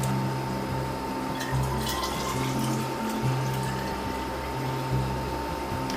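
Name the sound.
water filling a pot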